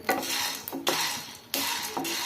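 Peanuts dry-roast in a pan while a spoon stirs them in three or four scraping, rattling sweeps, moderately loud and close, with brief pauses between strokes.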